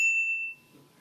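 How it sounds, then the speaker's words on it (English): A single bright bicycle bell ding on a folding electric bike rings out clearly and then fades away over about half a second, leaving faint low rumble behind. "And then we've got a bell."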